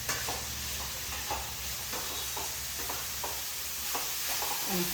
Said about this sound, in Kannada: ಸ್ವಲ್ಪ ಎಲ್ಲ ತಗೊಂಡು ಫ್ರೈ ಮಾಡ್ಕೊತಾ ಇದ್ದೀನಿ